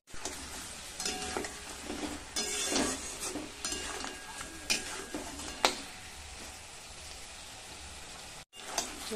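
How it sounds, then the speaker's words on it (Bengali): Meat and garlic frying in a pan, a continuous crackling sizzle with spattering pops and occasional stirring scrapes, moderately loud throughout, with a brief dropout near the end. "আমি মাংসের সাথে ভালোভাবে ভেজে নেব"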